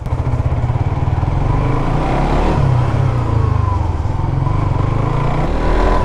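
A low-mileage motorbike being ridden, its engine droning loud and steady with slight rises in revs throughout, close by.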